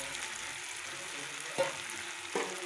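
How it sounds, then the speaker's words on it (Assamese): Half-fried fish sizzles softly in a pan with tangy outenga fruit, a steady frying hiss broken by two brief stirring knocks, with no speech. "অলপ মানে পানী নিদিয়াকৈ অলপ ফ্ৰাই কৰি ল'ম সিহঁতক"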